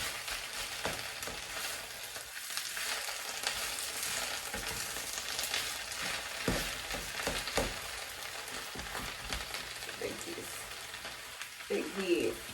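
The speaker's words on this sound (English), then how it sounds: "The bottom will start to wilt, and then you just kind of stir it" Spinach wilting in a hot pan for creamed spinach, stirred steadily with a constant sizzle and faint scraping strokes throughout.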